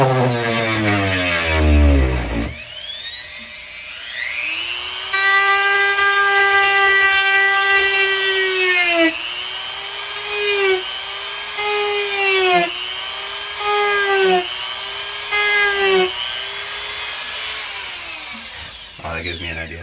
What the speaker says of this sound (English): I'll just sand the corner of that again.